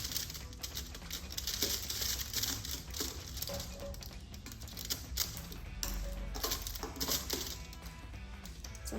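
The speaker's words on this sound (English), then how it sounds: "just grab some more of the tape and just secure that" Tape is handled while securing the roll of a homemade pinhole camera, making small close crinkles, taps and fiddly clicks scattered through the clip, with no talking.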